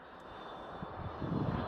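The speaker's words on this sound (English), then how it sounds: "No, it's an A320." Airbus A320neo jet passing at Amsterdam Schiphol, a steady broadband engine roar that holds level and swells slightly louder toward the end, with no voices.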